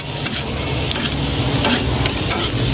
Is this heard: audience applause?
no